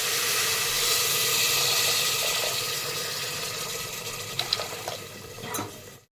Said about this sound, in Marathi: साधारण एक दीड ग्लास आहे ना पाणी घालून घेते